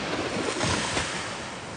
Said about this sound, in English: Let me get you a good sound of the ocean, guys.